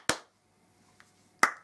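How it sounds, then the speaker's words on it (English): Two sharp, close hand claps about a second and a half apart, crisp and isolated in an otherwise quiet room. "Do you want to do the clap?"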